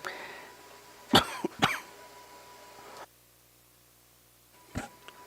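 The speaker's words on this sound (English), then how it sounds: "Sorry, I didn't mean to cough in y'all's ear." Two sharp, close coughs in quick succession break a low background murmur at a high school football game, followed a few seconds later by a third, softer cough.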